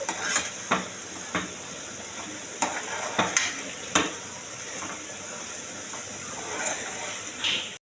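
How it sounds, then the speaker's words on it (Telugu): Green chili and coriander paste fries in a pan with a steady close hiss and sizzle, broken by sharp scrapes and taps of a spoon stirring at irregular intervals. "కాస్త పచ్చివాసన పోయే వరకు వేయించుకోవాలి."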